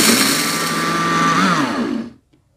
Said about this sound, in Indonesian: kayak gini siap kita blender sep blender sobatku